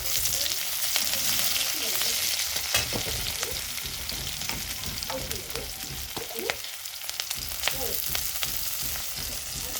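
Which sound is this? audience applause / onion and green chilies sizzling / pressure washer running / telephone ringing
onion and green chilies sizzling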